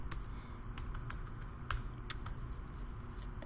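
Rapid typing on a computer keyboard clicks steadily throughout, close and moderately quiet over a low background hum, with no one talking.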